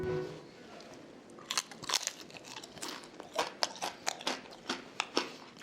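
Loud, crisp crunching bites of deep-fried flatfish bone chewed close to the mic, a rapid series of brittle cracks that grows denser and sharper toward the end.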